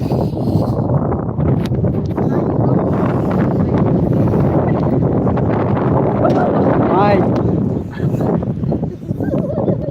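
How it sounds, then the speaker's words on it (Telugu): Steady cold wind during light rain from a cyclone buffets the microphone in a loud, continuous roar, with voices faintly audible beneath it. "చలి పడుతుంది చల్ల గాలి వస్తుంది"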